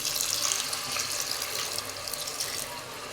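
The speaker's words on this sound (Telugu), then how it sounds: "కొద్దిగా వాటర్ వేసుకున్నాం" Water pours in a steady splashing stream into a potato and fenugreek curry for a few seconds, close by, with no talking.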